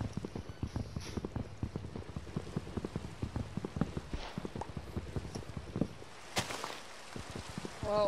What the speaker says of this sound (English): while this rain is pouring